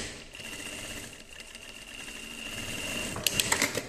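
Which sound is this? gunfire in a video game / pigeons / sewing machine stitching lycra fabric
sewing machine stitching lycra fabric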